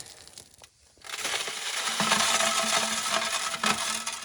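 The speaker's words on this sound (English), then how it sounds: "We're digging in this hole." Digging and scraping in a hole in an old dry stream bed wash, gritty crunching of dirt and stones with rubbing and shifting, fairly close and steady after a brief quiet start.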